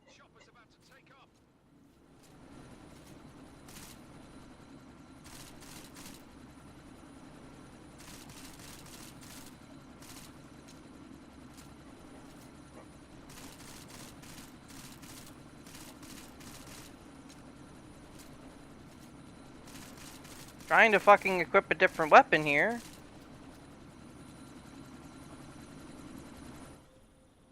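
In the video game Deus Ex Mankind Divided, a helicopter idles in a low, steady rumble while preparing to take off. Scattered bursts of gunfire and a voice sit on top, and a louder sharp burst erupts near the end.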